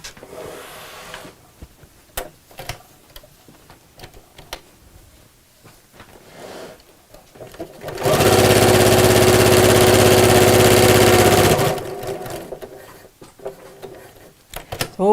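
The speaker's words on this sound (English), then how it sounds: "I'm going to sew around the outside of the box with quite a small stitch" A sewing machine runs a small stitch around the outside of a box shape on a gardening apron, a steady close whirring burst lasting about four seconds between quieter handling noises.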